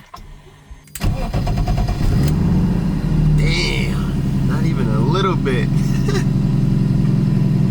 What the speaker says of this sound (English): This is a cold start with the windows up.